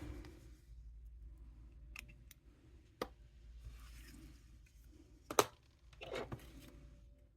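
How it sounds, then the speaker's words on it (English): Scissors cut through beading thread on a netting necklace, giving a single sharp close snip with a few faint handling taps and rustles around it in a quiet room. "Gonna give this a snip."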